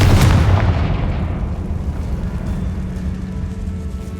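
A Confringo fire spell explodes in the Hogwarts Legacy video game, giving one loud, deep boom that rumbles and slowly fades over several seconds.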